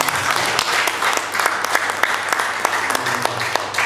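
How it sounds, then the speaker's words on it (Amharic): A church congregation claps together, dense sharp hand claps in a loose rhythm filling the room, steady and fairly loud from start to finish. "እስቲ አጨብጭቡና"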